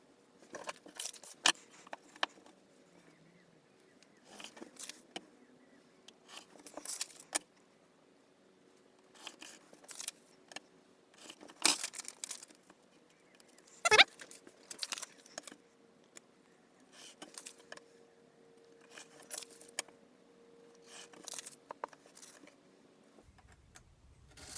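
Scissors cut out printed paper flight sim panels: a long run of close, crisp snips and paper rustles, irregular and quiet, set over a faint steady hum with no talk.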